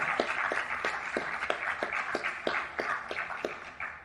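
Audience applause at a Caribbean-European Union parliamentary assembly youth forum: a steady, dense wash of clapping from a large crowd, with a regular pulse of sharper claps recurring about three times a second throughout.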